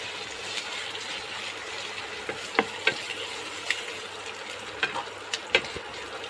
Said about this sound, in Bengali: আদা রসুনটা হালকা করে ভেজে নেব।